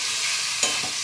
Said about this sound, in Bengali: আমি হাই ফ্লেমে এটাকে সতে করে নিচ্ছি